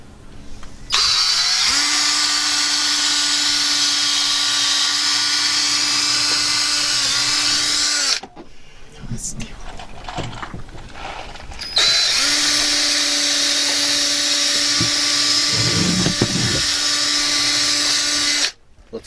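A power drill whines loudly in two long sustained bursts while pre-drilling holes for a van bed, with a short quieter pause of faint clattering and movement between them.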